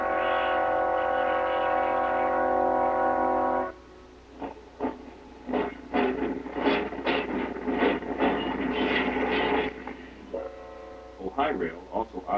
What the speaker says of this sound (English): Very much a fan of the Alco switchers